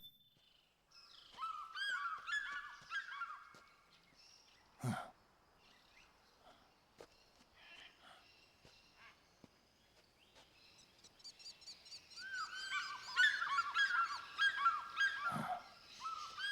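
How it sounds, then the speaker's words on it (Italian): Seagulls cry in the video game Metal Gear Solid 4, a cluster of shrill overlapping calls near the start, quieter scattered calls and thumps in the middle, then a louder, busier burst of cries toward the end, with no talking. "Ma dei gabbiani."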